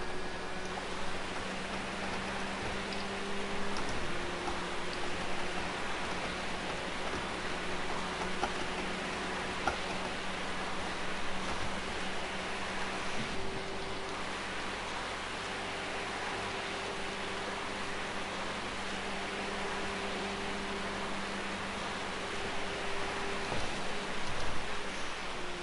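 Steady broadband rain hiss from a GT3 sim racing game at Daytona Road, continuous and fairly loud throughout with a faint engine-like drone underneath and no talking.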